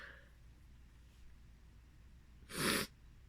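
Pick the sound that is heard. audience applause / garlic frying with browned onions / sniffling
sniffling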